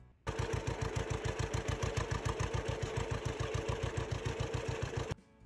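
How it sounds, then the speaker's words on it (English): An old farm tractor engine chugs steadily at a fast, even idle-like rhythm, loud and close, starting abruptly and cutting off cleanly after about five seconds with no talk. "Here's what that tractor sounds like"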